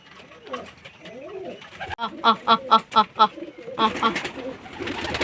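Adult pigeons coo in a series of soft, rhythmic pulses close by, with someone speaking Bengali over and between the calls.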